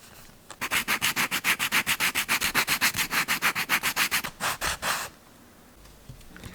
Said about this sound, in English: When I bond the leather together, the edges may not be even, so to fix this, I can make them even using sandpaper.